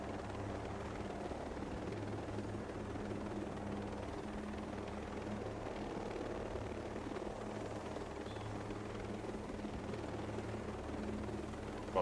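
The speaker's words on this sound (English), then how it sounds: "there's like five drones there" Drones in the tactical shooter Ghost Recon Breakpoint give off a steady, droning rotor hum that holds at an even level for the whole stretch, with no speech over it.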